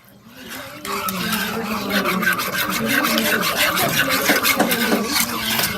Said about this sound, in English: Stir as you add your milk. Very important. So you have a nice smooth sauce. A whisk is good to use also.